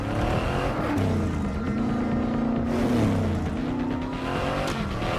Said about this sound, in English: love the sound that the car makes